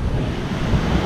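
Water rushes up through the flumes of a makeshift device: a steady, close, broadband whoosh that stays loud and even throughout, with no voices over it.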